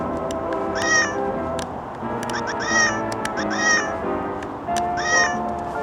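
A compact digital camera plays a recorded cat meow sound, with several loud, clear meows repeating at regular intervals.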